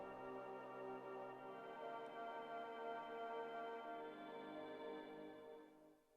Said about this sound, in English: I've got a pad sound